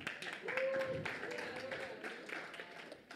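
A church congregation applauds, with a moderate, continuous patter of clapping under a voice that speaks and briefly sings over it.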